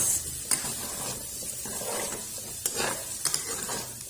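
Potatoes fried and stirred in a pan while cooking pork menudo, a steady sizzle under scraping stirs with a few sharp utensil clinks, close and continuous with no talking.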